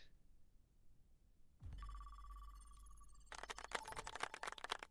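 A telephone ring sound effect from a soundboard during an esports grand finals broadcast: a steady electronic ringing tone that gives way to a louder, rapid trilling bell, heard alone without talk.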